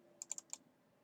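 A computer keyboard is typed on in a quiet room, a quick burst of four or five crisp, close keystrokes before falling silent.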